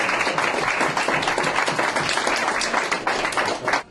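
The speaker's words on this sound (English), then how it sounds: "give them a round of applause for it" An audience at a commemorative plaque unveiling for LEO computers claps in dense, sustained applause that stays level for several seconds before cutting off.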